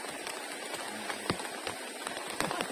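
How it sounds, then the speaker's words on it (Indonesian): Rain falling around a bamboo camping shelter, a steady soft hiss with scattered close drips and taps, fairly quiet and without talk. "Masih hujan. Masih lah."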